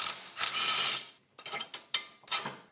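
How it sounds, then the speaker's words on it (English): A ratchet wrench works loose a 17 mm lower control arm bolt on a GR Corolla: a long clicking ratchet pull, then several short close bursts of clicks, loud and with no talking. "We're going to loosen up this bolt on the bottom so we can get out this lower control arm."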